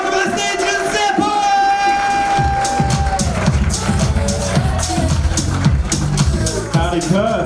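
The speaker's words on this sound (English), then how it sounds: "Take it away, big round of applause, open up the mouth, stomping up their feet" A comedy show audience in Perth applauds, whoops and cheers loudly and steadily as a comic is welcomed to the stage, with a host's voice and tonal sounds mixed in.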